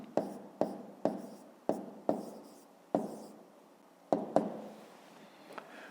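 Numbers are written by hand during a fifth-grade maths exercise, heard as a series of short, crisp pen strokes and taps on paper, close and irregularly spaced with brief pauses between them.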